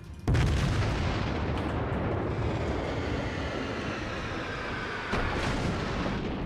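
Battleship gunfire in the naval video game World of Warships from the Tier III battleship Kawachi: a heavy booming volley with rumbling decay, followed by ongoing low rumble and a second softer blast near the end, no voices.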